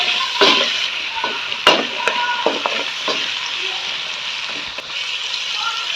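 Two to three medium chopped onions hit hot oil for a fried cauliflower and potato salan, setting off a loud, steady sizzle with a few sharper bursts of spatter and stirring; a voice talks faintly underneath.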